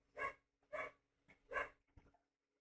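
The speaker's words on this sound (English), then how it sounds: "I guess you can hear the puppies based off of that." Puppies give a short run of four or five quick, fairly faint barks and yips in a steady rhythm, with no voices.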